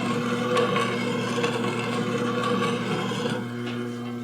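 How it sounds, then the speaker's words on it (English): A skew chisel slicing spinning wood on a lathe, throwing off curls: a steady, close, continuous scraping hiss and whir over the motor's hum, with no talk over it. "As we slice around there, and this is probably the best way to see it, you can see how the curls are just rolling right off of that cut."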